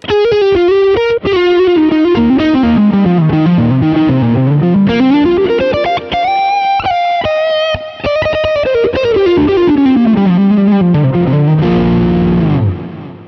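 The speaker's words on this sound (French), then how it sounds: "je sais pas si ça sature un peu en entrée ou non." A heavily distorted, saturated lead sound runs through an effects unit and hard-driven loudspeakers on a live stage rig, gliding up and down in pitch with a buzzing, harmonically rich tone, loud and continuous for over ten seconds.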